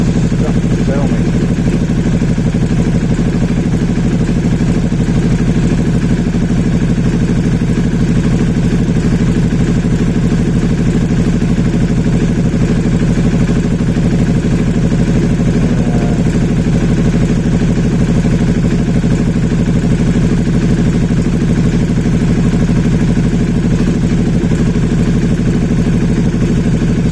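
An Aprilia Shiver 750 motorcycle engine idling close by, a steady loud mechanical drone with light clatter that holds unchanged throughout.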